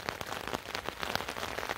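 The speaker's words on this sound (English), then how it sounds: "I'm just gonna listen to the rain now that I'm tucked into bed." Soft rain falls on a camping tent beside the North Saskatchewan River. Close, scattered taps and a faint continuous hiss fill a short stretch without any voices.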